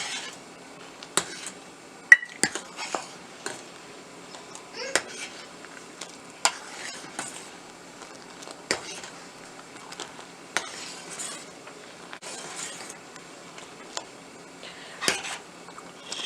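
A spoon stirs sugar into boiling milk in a pot, clattering and scraping against the metal in a steady, irregular rhythm of close taps that continues throughout.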